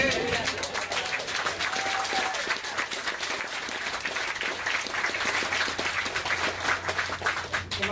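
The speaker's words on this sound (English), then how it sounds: "How about a round of applause?" An audience claps loudly and continuously at a Marine Corps retirement ceremony, with a few indistinct voices mixed into the steady applause.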